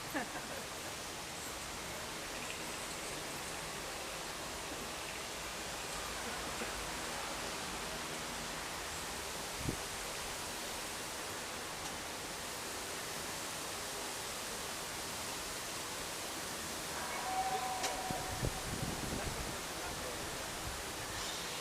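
Waterfalls roar in a broad, steady hiss through the Flight of Passage queue in Pandora: The World of Avatar theme park, with faint background murmur and a few brief louder rustles near the end.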